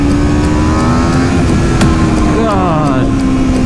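A 2022 Aprilia RSV4 sport bike roars loud and close under hard acceleration, its engine note holding steady then rising in pitch, with a person talking over it.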